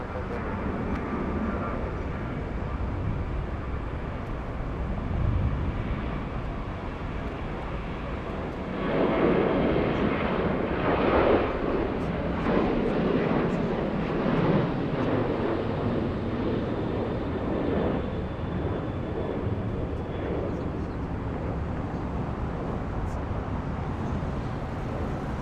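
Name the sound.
Airbus A350 airliner from Haneda at Atlanta airport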